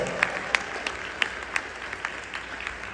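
A room of people applauding a team during a State of the City address, a steady wash of clapping with distinct individual claps popping out at regular intervals.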